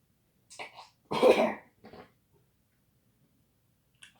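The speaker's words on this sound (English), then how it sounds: "I sprayed the thing in my room. It always makes me cough." Someone coughs and clears their throat in a quiet room after using a room spray, a few short close coughs with one stronger burst, then near silence.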